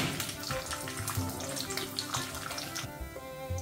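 Mustard and other seasoning seeds fry in hot oil for an Indian-style asparagus fry, a close, busy sizzle with crackles and pops running steadily throughout.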